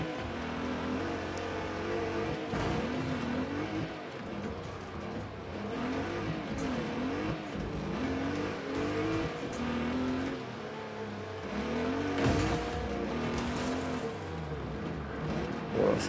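Race car engine at full throttle in Wreckfest 2, a loud, continuous roar with rising and falling revs as the car accelerates and shifts, close and sustained throughout with no talk.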